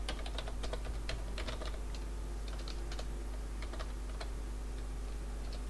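Someone types on a computer keyboard during an online game, producing quick, irregular clicks over a steady low hum, close and fairly faint, with no talking.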